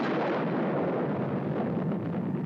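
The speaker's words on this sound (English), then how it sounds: "The A-bomb, mounted on a tower in a lagoon, turns the sky white at the moment of detonation." French atomic bomb test, tower-mounted over a lagoon in the Pacific: a sustained, loud, dense roar of detonation filling the whole stretch without a break.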